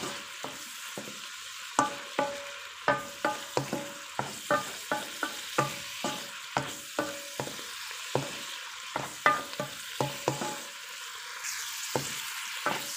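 Shrimp and tofu with plenty of coriander leaves stir-fried in a pan, a steady sizzle broken by repeated sharp scrapes and clacks of the spatula tossing the food, close and fairly loud, with no talking.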